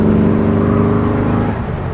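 A 1968 VW Type 3 with an 1835cc engine accelerates in third gear, its loud, steady engine drone pulling close by before easing slightly near the end.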